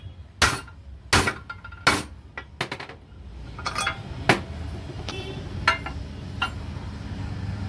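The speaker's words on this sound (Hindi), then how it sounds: "देखिए पाइप का सहारा लेकर हम इसको ठोक रहे हैं ताकि हाउसिंग के अंदर चली जाए।" Metal hammer blows driving a bearing through a pipe into the housing of a 7.5 hp Elgi air compressor, sharp ringing strikes spaced irregularly, loud early and then lighter taps over a low workshop hum.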